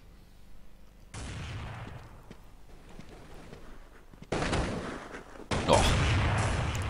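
Bursts of Counter-Strike gunfire on de_dust2 at a PGS Exponor 2012 match, a sustained volley starting after a second, then two louder sharper bursts near the end, fairly close and dense.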